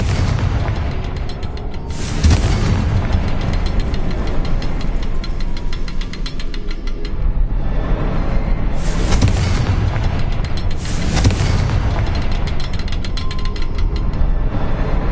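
In the video game Hogwarts Legacy, Confringo spell blasts burst out as loud booming explosions over a constant rumbling mechanical game soundscape, with several distinct blasts spaced across the passage.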